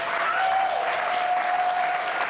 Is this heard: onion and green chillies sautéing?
no